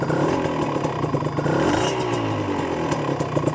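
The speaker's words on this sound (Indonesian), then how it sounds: "Suara 2 tak coy." A Honda NSR RR two-stroke motorcycle engine revs up and down close by, a loud, buzzy, rattling idle with quick throttle blips.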